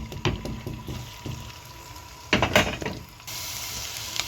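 Chopped onion sautéing in melted butter over high heat, a busy close sizzle broken by scraping stirs, with a louder burst of spatter partway through and a brighter hiss toward the end.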